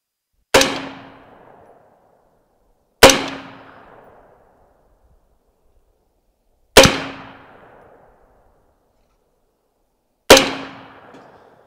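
A Lantac AR-15 rifle fired at an outdoor range: four single, sharp, loud shots spaced a few seconds apart, each followed by a short ringing decay and then silence.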